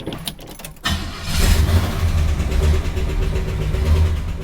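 A 1972 Hurst/Olds with its 455 engine starts up and settles into a steady idle with a light lifter tick. Keys jangle briefly at first, then the engine's low rumble runs continuously and close by.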